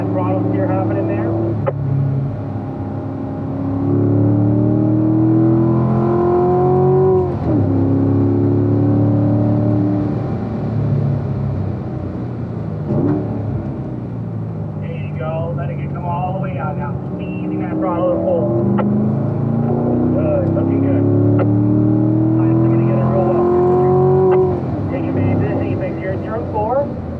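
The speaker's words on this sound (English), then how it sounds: "Now squeeze that throttle now all the way down." A car accelerating hard through a corner on a race track, its engine rising and falling in long revving sweeps, loud and continuous beneath steady commentary.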